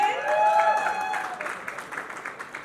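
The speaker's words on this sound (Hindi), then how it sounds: "जोरदार तालियां हो जाए" Crowd applause at a GCL launch event, steady clapping from many hands that begins together with a sustained tone and then carries on more loosely before thinning out.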